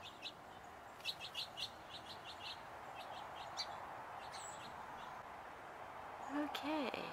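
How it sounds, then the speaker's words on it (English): A hooded oriole sings from a cedar tree, with short high chirps and whistled notes heard at moderate distance over steady outdoor background noise, and a person speaking briefly near the end. "The Oriole is back on the cypress tree. No, cedar tree."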